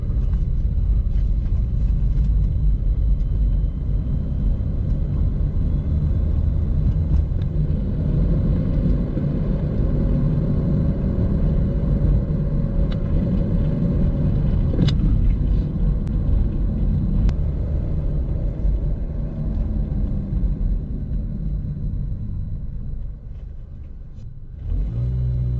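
A car with failed oxygen sensors on a test drive: a steady, loud engine and road rumble from inside the cabin, holding continuously before easing off near the end.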